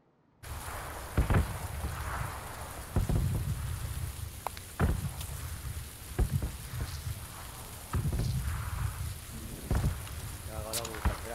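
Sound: heavy rain with thunder

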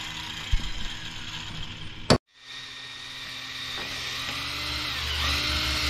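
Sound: wrench removing a bolt

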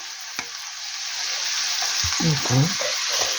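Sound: frying meat with carrots

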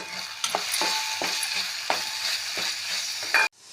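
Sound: spices being stirred and frying in a pan

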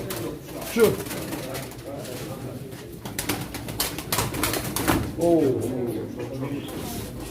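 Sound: pigeons cooing at a pigeon auction

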